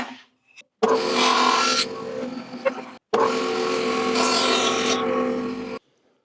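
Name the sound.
bandsaw cutting a wooden shim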